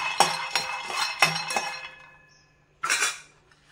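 Already roasted peanuts are lightly dry-roasted in a pot, giving a few sharp metallic clinks and rattles of stirring, then a short pause before one last burst of scraping.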